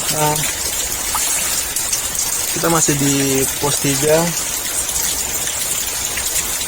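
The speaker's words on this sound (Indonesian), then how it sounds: "Kondisinya juga masih hujan, masih malah tambah deras." Heavy rain falls on the Candi Cetho trail up Mount Lawu, a steady dense hiss that runs through the whole stretch while a person talks over it up close.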